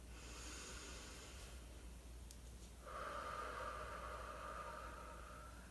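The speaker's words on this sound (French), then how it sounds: "On prend une grande respiration profonde." A single slow, deep inhale through the nose, quiet and close, rising out of a faint steady hiss and held for a few seconds.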